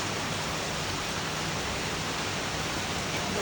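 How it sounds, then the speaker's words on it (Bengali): Steady, dense hiss of heavy rain pouring down, a broad, even wash of sound that stays at a constant level for a few seconds, with no voices. "মুক্তার মতো ঝরছে বৃষ্টি"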